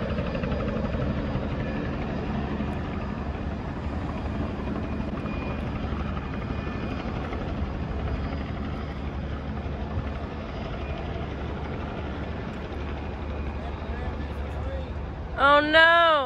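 A helicopter drones steadily overhead at a trout river, its low rotor thrum filling the whole stretch, with a brief voice cutting in near the end.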